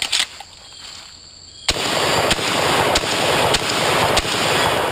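Rapid, loud shots ring out on a farm from a teenage girl's pistol, shotgun or rifle, evenly spaced cracks over steady background noise after a quiet start.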